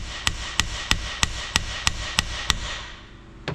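Steel hammer blows on a large socket, driving a timing gear onto a Detroit Silver 4-53T diesel: eight sharp, evenly spaced metallic taps about a third of a second apart, close and clear, then a short pause.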